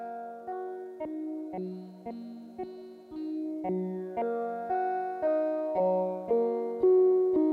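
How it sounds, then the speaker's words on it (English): A synthesizer arpeggiator cycles a repeating four-note pattern, each note plucked and echoing, steady and moderately quiet, with no voices. "So I've got a little 4-note sequence running in the arpeggiator"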